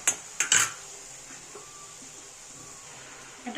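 Tomato gravy goes into a pan of cooked onion and garlic for pav bhaji. A few close metallic clanks of a spoon against the pan come at the start, then a quiet stretch, then another clink at the end.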